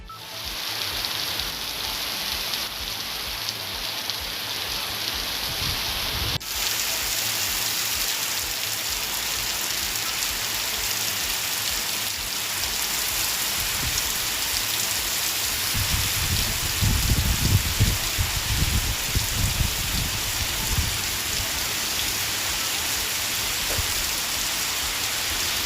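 Heavy rain pours steadily in Bhuvanagiri, Cuddalore district, a dense continuous hiss with occasional low rumbles, close and loud throughout with no talk.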